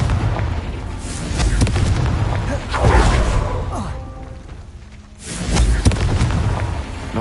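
Confringo fire spells cast in the video game Hogwarts Legacy on hard difficulty, giving several loud booming blasts with whooshes spread through the stretch, with a lull near the middle and a voice speaking over the game sound.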